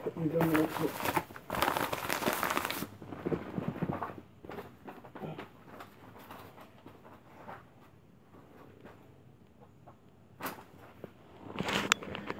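DVDs being pulled from a tightly packed envelope, with loud crinkling and tearing of packaging for the first few seconds and again near the end, and people talking in between.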